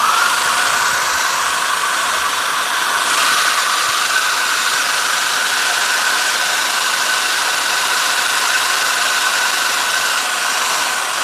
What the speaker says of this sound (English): pick up a hairdryer here really quickly